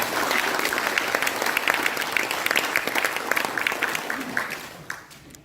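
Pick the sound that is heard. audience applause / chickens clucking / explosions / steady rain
audience applause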